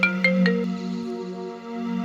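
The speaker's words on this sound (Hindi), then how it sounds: "भाभी जी के नंबर से फोन आ रहा है" A phone rings with an incoming call, giving a steady electronic ringtone with a sustained tone and a few short chirps at the start. It is fairly loud and close, with no voices.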